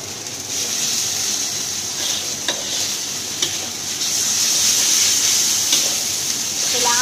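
Pork browns in a pan over fairly high heat with a continuous loud sizzle. Periodic scraping clicks come from stirring, heard close up and without talk.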